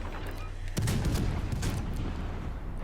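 Naval gunfire from a battleship in the video game World of Warships Legends: one heavy boom that rolls into a sustained low rumble, with faint speech beneath.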